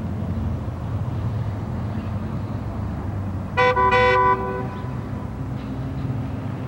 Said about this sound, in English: Honk your horn twice